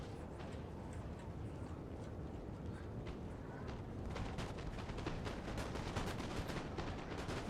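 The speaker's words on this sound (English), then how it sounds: "So they're engaging in a shooting match." Massed musket volleys crackle in the Napoleon: Total War game's Battle of Borodino, a dense, distant rolling patter of shots that thickens in the second half, with someone speaking quietly over it.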